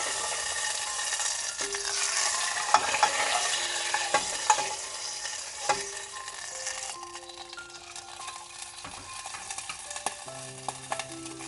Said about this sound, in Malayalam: ഇനി ഇതിലേക്ക് നമുക്ക് ഈ ചെറിയുള്ളി വറവിട്ടത് ആഡ് ചെയ്തെടുക്കാം.